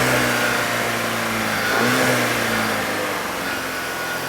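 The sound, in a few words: car engine being revved, VW GTI 2.0L turbo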